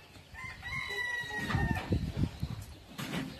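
A rooster crows outdoors in Puruándiro, Mexico, giving one long, drawn-out call at moderate distance, with soft thumps and background noise around it.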